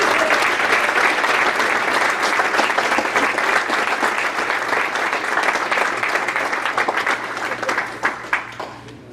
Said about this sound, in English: let's get off Catholic inductees with one last round of applause